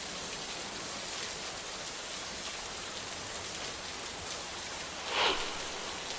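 Heavy monsoon rain in Maharashtra, India pours down in a dense, steady hiss with no pause, one brief louder splash near the end.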